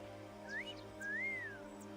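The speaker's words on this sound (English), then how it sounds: "I like how Tidus can whistle just by opening his mouth" Tidus whistles in Final Fantasy X at the Moonflow, two clear rising-then-falling whistled notes, the second longer, over a soft steady game background hum.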